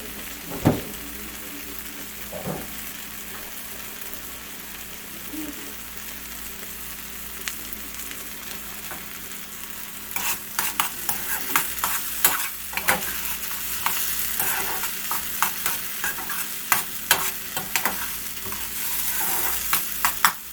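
Onions simmer and sizzle in sauce in a pan for a Puerto Rican onion dish, a steady bubbling hiss that grows busier with sharp pops and spoon scrapes in the second half, no talking.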